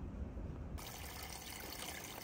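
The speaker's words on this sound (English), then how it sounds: "There's a nicely running little spring right on the trail. Water's just pouring out right here." A small spring running across a hiking trail on the Appalachian Trail, a steady close trickling and pouring of water with no voices; the sound brightens noticeably after the first moment.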